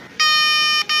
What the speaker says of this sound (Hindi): ये हॉर्न